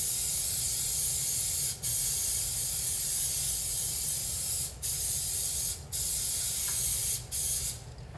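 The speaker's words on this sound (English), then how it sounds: "I'm gonna spray it with my All Bake food release." All Bake non-stick cooking spray hissing into a baking pan in close, loud bursts, about five sprays separated by brief pauses.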